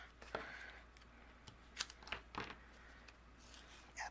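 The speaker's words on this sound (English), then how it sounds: "Let me grab my scissors." Scissors snipping foam adhesive tape at a cardmaking table, several quiet close crisp cuts and rustles spread over a few seconds, no talk.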